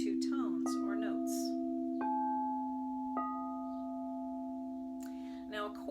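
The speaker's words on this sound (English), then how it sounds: "I'm playing two tones, and the interval is the distance between these two tones or notes." Two crystal singing bowls ring together as a sustained interval, steady pure tones struck and restruck a few times and decaying slowly, with brief talk at the start and end.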